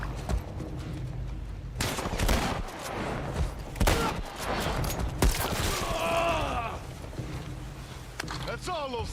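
Bursts of gunfire ring out in The Last of Us Part I, sharp shots and rapid volleys spread through the stretch, heard under nearly constant talking from a player.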